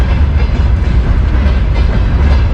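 A train rumbles loudly and steadily at a station, with a low heavy roar and faint rhythmic clatter and no voices over it.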